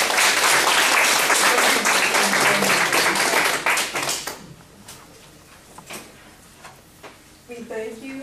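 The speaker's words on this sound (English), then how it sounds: "please join me for a round of applause" An audience gives a round of applause at the close of a health and aging lecture, dense clapping for about four seconds that thins to a few scattered claps before a voice begins speaking.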